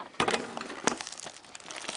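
A KHL hockey card box is opened by hand, its plastic and paper packaging crinkling and rustling in a few short, close, faint bursts, with no one talking.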